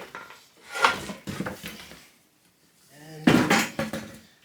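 An old wooden bench being flipped upside down, with several knocking, clattering thuds of wood and loose parts shifting close by, a pause, then a louder clunk as it lands.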